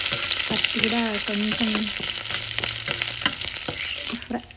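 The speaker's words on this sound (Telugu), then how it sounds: "కరివేపాకు వేసుకునేసి మళ్ళీ ఫ్రై చేసుకునేసి దాన్ని తర్వాత కొంచెం పసుపు వేసుకునేసి" Curry leaves and turmeric fry in a pan for a beetroot dish, a close crackling sizzle broken by spatula scrapes and stirring clatter, with a short tonal squeak early on.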